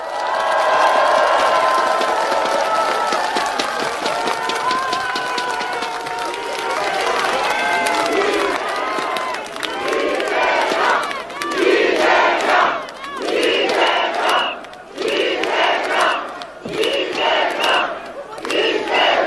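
Large outdoor crowd at a presidential campaign rally in Jeonju cheering, shouting and applauding loudly and continuously, with the roar swelling and surging in bursts throughout.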